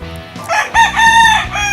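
A farm rooster crows loudly and close by, one full cock-a-doodle-doo call with a few clucks at the start, heard on its own.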